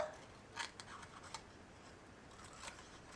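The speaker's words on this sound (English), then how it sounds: "So I'm just going to cut a little rectangle" Scissors snip through a small paper rectangle for a Halloween paper envelope craft, giving a few faint, crisp cuts in a quiet room with no speech.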